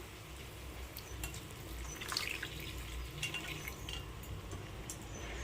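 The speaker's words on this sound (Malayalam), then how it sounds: "ഇപ്പോൾ ചൂടുവെള്ളമാണ് ഞാൻ ഒഴിച്ചു കൊടുക്കുന്നത്" Hot water poured into an egg roast masala gravy, a steady splashing trickle running evenly throughout with a few light drips and spatters, close and moderately loud, with no voices.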